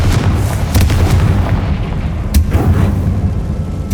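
Confringo blasting spell exploding in Hogwarts Legacy: a loud, continuous booming barrage of deep detonations with a few sharp cracks, close and dense throughout, without speech.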